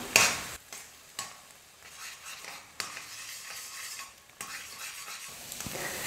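Three eggs frying in a pan and being scrambled into fine crumbles, a soft continuous sizzle punctuated by repeated scraping and tapping of a utensil against the pan, close and fairly quiet.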